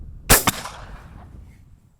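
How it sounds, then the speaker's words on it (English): A single loud shotgun blast fired at a pattern sheet outdoors, a sharp close report with a quick echo and a fading tail, no voices. "Fire a single shot at the sheet."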